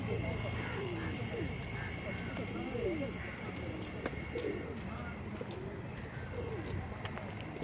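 Pigeons coo in soft, repeated rolling calls on an outdoor promenade at Bandra, layered over a steady wash of city ambience, with faint scattered chirps.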